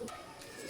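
Pet pigeons at a home-built pigeon house give a soft, low cooing while they feed, heard faintly over a short moment with light background noise.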